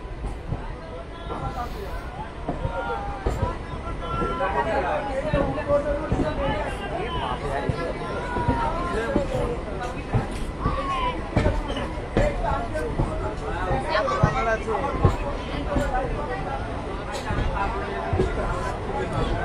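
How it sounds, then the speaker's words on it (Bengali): A large crowd fills the Mashagram railway station platform around a new train, making a steady hubbub of overlapping voices, footsteps and chatter that continues throughout at a fairly loud, close level. "ভিড় দেখুন"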